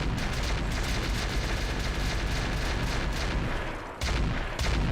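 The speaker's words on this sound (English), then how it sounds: "We're going to send 7 out of the 10 sets of mortars at acid," Mortar barrage in the Roguetech mech game, a dense rolling rumble of overlapping booms and blasts, loud and continuous, with a brief dip near the end before the firing resumes.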